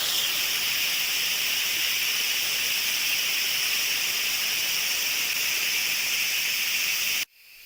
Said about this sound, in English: Now you need to release the pressure from the pressure cooker before you remove the lid.